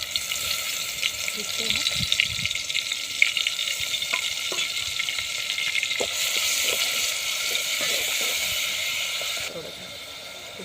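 Ground spice paste hits hot oil for a rustic chicken curry, giving a steady broad sizzle with scattered spoon clicks and stirring, easing down near the end; someone speaks briefly over the frying.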